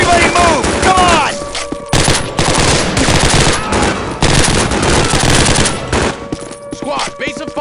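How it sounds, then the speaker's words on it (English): Heavy squad gunfire in a World War II Call of Duty battle during Operation Market Garden, with continuous overlapping machine-gun bursts and rifle shots close by, a dense fusillade that barely lets up, with shouted voices faintly mixed in. "Covering fire! Hold right here! Lay down a base of fire!"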